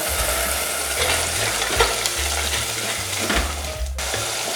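Fish kuzhambu base sautéing in oil in a pan for a Mathi (sardine) curry, a steady close sizzle and frying crackle with a few stirring scrapes, continuous and fairly loud with no talk.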